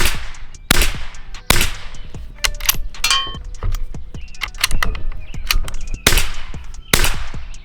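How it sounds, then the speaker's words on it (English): Five shots from a cheap .22 rifle, sharp, loud cracks spaced about a second or more apart, each followed by brief clinks and handling noise in between. "But here we go, we're gonna do 5 shots. See how this little 22 does."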